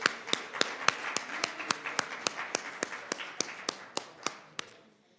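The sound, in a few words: audience round of applause for a panel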